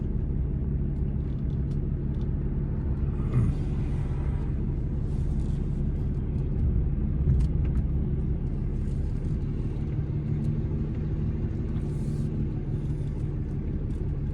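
An old Cummins diesel truck drives along steadily, its low engine rumble constant and close throughout, with tire and road noise layered over it and no pauses.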